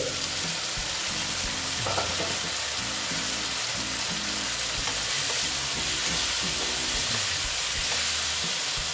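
A banana flower curry mixture sautés in a pan with a loud, continuous sizzle and crackle, with occasional scraping from stirring, heard close up throughout.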